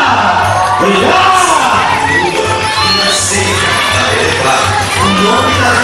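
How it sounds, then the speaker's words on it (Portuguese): A festa junina dance show audience in São Bento do Trairí cheers and shouts loudly, a dense crowd roar with whoops and children's cries filling the space throughout, steady and close. "E os aplausos da plateia!"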